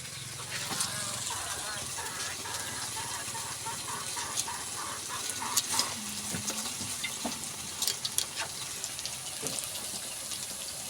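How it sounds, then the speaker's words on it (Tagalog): Banana fritters (maruya) frying in a pan, giving a steady dense sizzle with crackling pops throughout, joined by faint kitchen clatter and water sounds. "At ito yung ipiprito ko pa siya guys."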